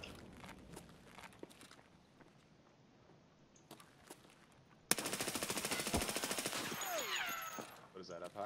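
Rapid automatic gunfire in a first-person shooter game bursts in loud and dense after quieter footsteps and scattered shots, sustained for several seconds with ringing tails, while players talk over the action.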